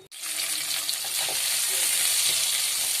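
Whole spices dropped into hot oil for phoron tempering in a potato dish, a sudden onset followed by a loud, continuous hissing sizzle, close up.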